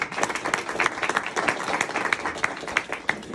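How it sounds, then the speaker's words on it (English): Parents, family and friends at a signing day event give a round of applause, with distinct individual claps standing out over a broad crowd clapping that pulses unevenly for a few seconds. "I think that deserves one more round of applause."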